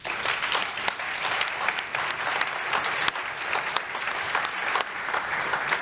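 Audience applauding panelists at the end of a session at the Baltic Sea Region Forum 2023 in Finland: steady, dense clapping from a sizeable crowd, sustained throughout with a few sharper individual claps standing out.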